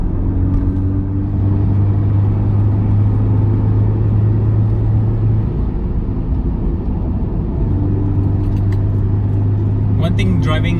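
Toyota 86 rear-wheel drive sports car speeding up on a road, heard from inside as a loud, steady engine drone and road rumble that shifts pitch as it accelerates, with a person talking over it.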